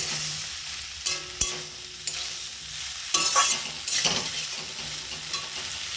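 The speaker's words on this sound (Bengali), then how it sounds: "ঢ্যাঁড়সটা ভালো করে ভাজা হয়ে গেছে, এর মধ্যে সর্ষেটা দিয়ে দিয়েছি, ভালো করে মাখছি" Deep-fried okra is stirred together with ground mustard paste in a pan. A soft sizzle runs throughout under uneven scraping and mixing strokes, including a few sharper knocks of the spoon, with no voices.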